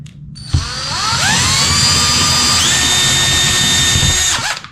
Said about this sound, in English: I'm gonna drill into this dude's head